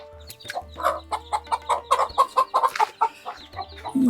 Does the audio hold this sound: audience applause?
no